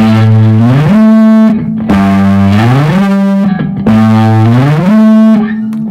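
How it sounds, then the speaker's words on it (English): Distorted electric guitar notes glide up and down the neck in repeated slides, each note struck then swept higher and back down, loud and sustained with effects processing, no voices. "hitting the note first, then sliding up, and then sliding back down"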